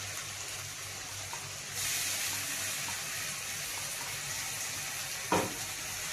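Spice paste for a fish curry frying in a hot pan, a steady broadband sizzle that flares louder partway through, with a faint clink of a utensil near the end and no talking.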